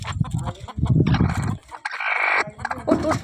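Hens cluck in a village coop at close range, with a busy run of low clucks and then a longer, higher drawn-out call, repeated in brief bursts.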